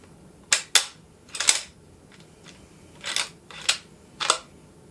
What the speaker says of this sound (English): I can run this bolt insanely fast, and I can also run this bolt very quietly, just nice and smooth